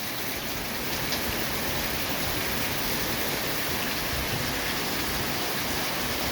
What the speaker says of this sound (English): Well, it's raining in the Ozarks.